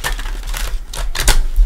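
A deck of tarot cards is shuffled close up, giving quick crisp riffling bursts and papery flicks in short irregular clusters, loud and alone.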